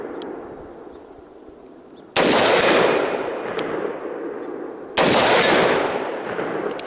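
Two sharp rifle shots at an overland shooting course, each striking a steel target with a ringing ding that decays over a couple of seconds, loud and alone without talk.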